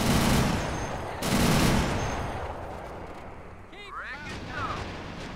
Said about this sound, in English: Oh, this is my, my machine gun.